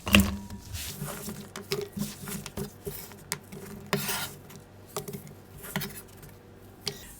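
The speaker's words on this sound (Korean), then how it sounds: "썬 오이는 보울에다가 담가주겠습니다" Sliced cucumbers being dropped and moved into a bowl for a quick cucumber side dish: soft, irregular wet patters, light squishes and small clinks, close and quiet with no talking.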